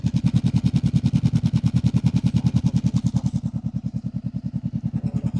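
A Honda CB 500X motorcycle exhaust idles close to the microphone, a loud, steady rapid thumping pulse with a slightly softer, rougher patch toward the end.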